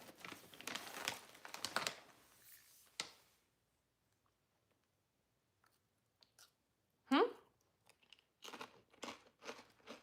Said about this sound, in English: I always eat on live stream, so sorry if y'all don't like crunching